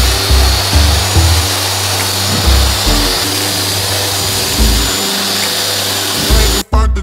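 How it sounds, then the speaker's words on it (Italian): A vacuum-extracted sanding file works over fiberglass resin with a loud continuous abrasive roar and whine, pulsing as strokes shift, before cutting off abruptly near the end; no talking. "Lavorando con la lima aspirata si è molto più veloci dato che la polvere defluisce molto meglio"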